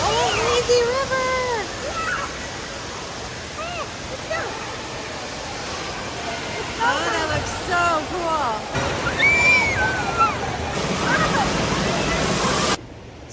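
Water rushing and sloshing along an indoor lazy river at the Great Wolf Lodge water park in Sandusky, Ohio: a steady, fairly loud wash of flowing water under excited children's voices and adult talk.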